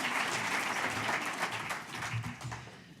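An audience applauds the 2017 John P. McNulty Prize laureates, a dense, sustained wash of clapping from a crowd that tapers slightly toward the end.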